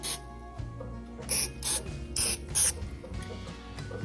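Four short hissing bursts of nonstick cooking spray onto a metal muffin pan, close and loud, evenly spaced over a quiet low hum.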